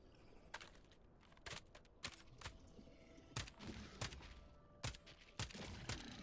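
Suppressed shots from an R-72 Censor rifle in Helldivers 2, about a dozen sharp muffled cracks fired at irregular intervals over a low game backdrop, crisp and close with no talk.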